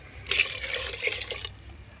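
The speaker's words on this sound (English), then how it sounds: "Add some water upon it." Water poured into a simmering pot of peas during Jamaican Sunday cooking: a steady splashing gush lasting just over a second, close and fairly loud, then dropping back to a low bubbling background.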